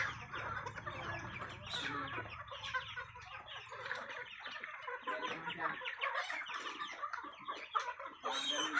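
A flock of chickens on a small backyard poultry farm, clucking and squawking continuously close by, with overlapping calls from many birds and a hint of crowing.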